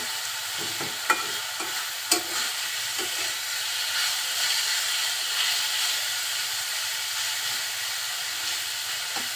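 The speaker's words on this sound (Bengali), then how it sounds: "এখন আবার ঢাকনা উঁচু করে একটু নেড়ে চেড়ে নেব।" Radish greens frying in a covered pan on low heat are stirred after the lid is lifted, giving a steady close sizzle and hiss with a few sharp spatula scrapes near the start and no talking.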